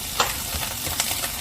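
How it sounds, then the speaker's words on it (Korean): Abalone stir-fried with garlic in a pan, a short burst of close hissing sizzle with a couple of light stirring scrapes. "마늘을 살짝 볶아주시고 여기에 바로 전복을 투하할 겁니다"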